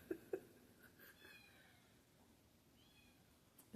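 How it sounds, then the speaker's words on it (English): A black cat gives a few faint, short meows at a distance, with quiet room noise between the calls. "He's a beautiful black cat."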